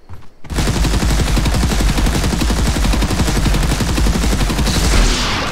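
Gunfire in a shooter video game demo: loud, rapid automatic bursts that merge into an almost unbroken stream after a brief quiet start, with no talking.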